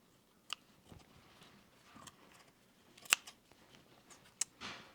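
Scissors make a series of sharp, close snips at an irregular pace while cutting small fabric house blocks for a gingerbread quilt, quiet between cuts.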